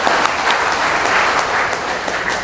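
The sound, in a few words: applause from the crowd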